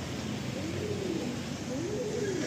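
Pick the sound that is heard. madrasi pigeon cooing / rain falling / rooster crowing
madrasi pigeon cooing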